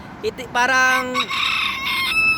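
A bantam hen, a black-blue variety, clucks briefly and then gives a loud, close crow that is drawn out and harmonic, sustained for more than a second and then trailing off.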